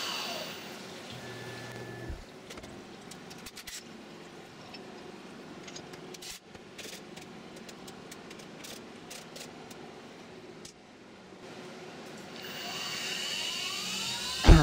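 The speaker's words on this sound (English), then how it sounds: "So here I'm coming back with the 3/16 inch end mill, and I'm cutting this roughing operation in two passes" A CNC mill runs a 3/16 inch end mill through a roughing pass on an AR15 high-rail gas block, machining a lightening pocket. It gives a steady, dense cutting whine and hiss that holds for the whole stretch, with small shifts in pitch and a sharp jump at the end.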